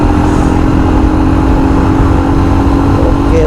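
Royal Enfield Scram 411 motorcycle held at high revs under hard acceleration, a steady close engine drone mixed with wind rush, continuous and loud for a few seconds.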